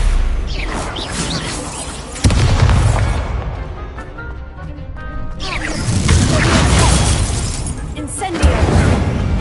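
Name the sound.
Confringo blasting spell explosion in Harry Potter video game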